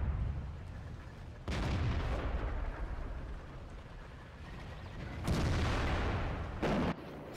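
Tank cannon shots in World of Tanks during a clan war battle, two loud booming blasts with rumbling tails over steady battlefield noise, the second shot followed by a brief sharp burst.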